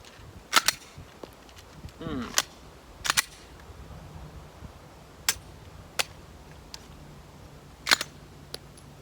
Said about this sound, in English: trying to draw and get a shot off at a greater distance. This is about 22 yards.